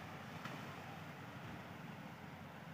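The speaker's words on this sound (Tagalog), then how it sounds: "Maganda, malakas ang alon naman." Strong ocean waves at Patar Beach during high tide make a continuous broadband wash, faint and steady, mixed with some wind noise on the microphone.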